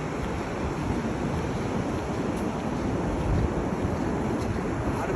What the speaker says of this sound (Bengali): এই সেই পান্তাই বিচ লাংকোয়াইতে সব থেকে সুন্দর